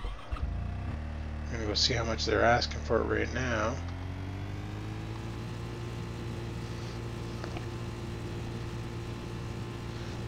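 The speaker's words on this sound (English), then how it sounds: "I'm gonna grab my tractor." A tractor engine in Farming Simulator 2013 drones at a steady, even idle with a tonal hum, while someone talks over the first few seconds before the motor carries on alone.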